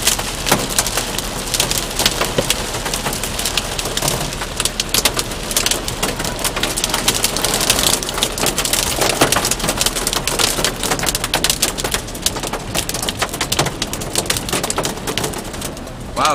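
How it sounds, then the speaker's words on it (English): Heavy rain pours down steadily on a windy day, a dense hiss of drops drumming on surfaces close by for the whole stretch, with no one talking. "That's the rain. That's the rain."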